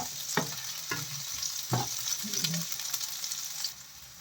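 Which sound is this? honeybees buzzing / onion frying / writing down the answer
onion frying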